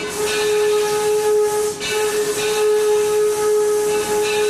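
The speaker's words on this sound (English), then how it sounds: "There's 2 long blasted short, and then another long blast" A steam locomotive whistle at Greenfield Village sounds in sustained blasts, long and short, a steady tonal shriek over hissing steam, loud and fairly close.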